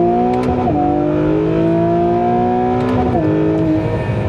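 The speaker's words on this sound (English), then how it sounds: "So second gear and floor it." Acura NSX Type-S engine pulling hard at full throttle in second gear, loud and close, with rising harmonic tones and a quick dip near three seconds before the climb resumes, no voices.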